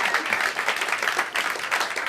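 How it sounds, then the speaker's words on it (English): Short burst of steady clapping from a small audience in a radio station lounge, fairly close and even. "I'll give him a round of applause."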